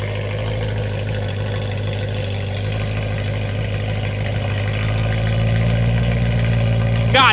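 BMW E92 M3 with straight-pipe exhaust and valves open, a loud, steady idling rumble with a deep low drone that swells slightly near the end.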